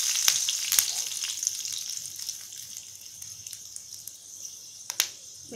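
Fenugreek seeds and dried chili fry in a little hot oil in a wok, a steady faint sizzle with a few sharp crackles and a scrape near the start and again around the five-second mark.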